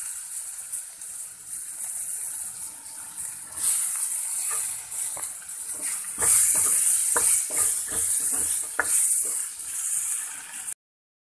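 Freshly picked mixed home-grown greens hit hot spiced oil in a pan, giving a loud, steady frying sizzle with stirring scrapes and sharper crackles throughout.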